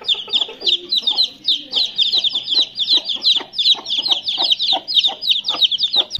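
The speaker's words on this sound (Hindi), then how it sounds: "माशाल्लाह यार चूजे कितने प्यारे लग रहे हैं बाहर निकल के। आज पहली दफा इनको बाहर निकाला है और बहुत शोर कर रहे हैं यार" Roughly two-week-old chicks let out of their cage for the first time cheep constantly in fast, high, overlapping peeps close by, while a hen clucks in low, scattered bursts underneath.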